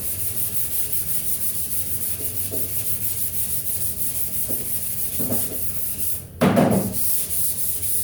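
Hand sanding of primer on a 1980 Buick Regal with a taco pad, a steady close scrubbing rasp that runs continuously, with a few sharper strokes and a brief loud scuff toward the end.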